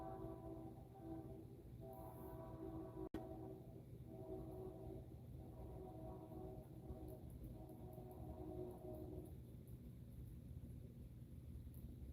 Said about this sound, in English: I live in the country, so there's always a train on live.